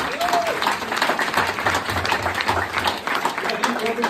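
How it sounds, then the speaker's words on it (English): Audience applause for a woman named Pam at a team-building talk, sustained clapping from a crowd with voices and cheering mixed in over it. "Pam, can we all give Pam a huge round of applause?"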